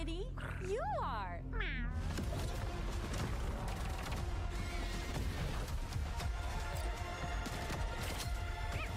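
A cat-themed voice line plays out in an Overwatch match, with a playful sliding meow-like call at the start, then dense game noise and gunfire running loud throughout.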